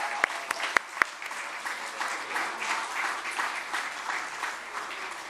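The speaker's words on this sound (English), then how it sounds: "Please join me in a round of applause to acknowledge Tracy's amazing achievement." An audience at a netball awards ceremony applauds in a steady, sustained round of clapping, with a few sharp individual claps near the start.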